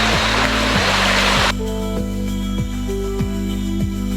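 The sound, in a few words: flowing water at Tago Falls wading area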